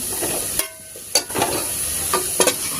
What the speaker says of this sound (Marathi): आता मसाला परतून घ्यायचा आपल्याला इथे इथे थोडेसे हळद आणि हिंग आपल्याला घालून घ्यायचे